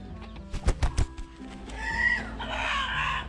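A rooster on a Vietnamese home farm gives a few sharp clucks, then lets out a drawn-out crow, heard fairly faint and alone.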